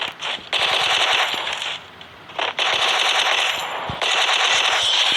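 Rapid automatic gunfire from a mobile shooting game rattles out in three long sustained bursts, separated by brief pauses, loud and close with no talking over it.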